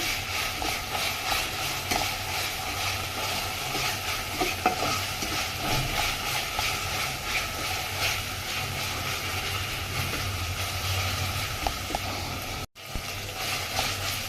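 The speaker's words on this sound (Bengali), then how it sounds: "এটার মধ্যে আছে কাঁচামরিচ, সামান্য আদা, সামান্য রসুন আর পেঁয়াজ। একটু ভেজে নেই।" A ground paste of green chillies, ginger, garlic and onion sizzles loudly in a pan while a spoon stirs it in rhythmic scrapes, continuous and close, with one brief break near the end.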